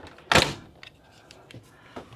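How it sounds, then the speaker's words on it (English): Freezer pull-out drawer in a 2026 Lance 2075 camper opening with one sharp thunk, followed by a few faint, scattered clicks and rattles nearby. "freezer pull-out drawer"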